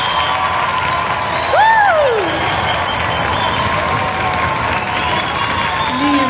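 Audience at a live gospel concert recording applauds and cheers steadily throughout, a dense, continuous wash of clapping with a few whistles rising above it.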